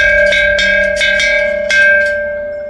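A small metal temple bell is struck several times in quick succession, each clear ringing tone overlapping the last and fading at the end.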